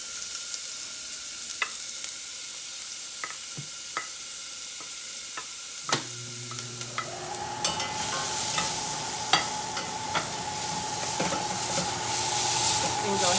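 Diced onions and ginger with turmeric and chili powder start sautéing partway through, a steady sizzle building after a few scattered clinks and taps of stirring in a quiet kitchen.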